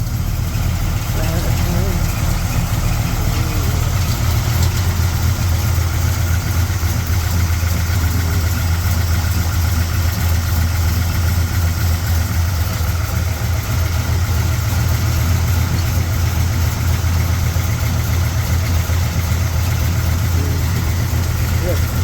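1965 Chevrolet Impala engine idling steadily after body shop work, with loose parts and dangling headlights rattling; a continuous loud, close rumble throughout.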